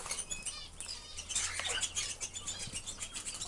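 A tame Coturnix quail chirps in quick, bright, close bursts while dust-bathing in sand, with soft rustling and fluttering between the calls.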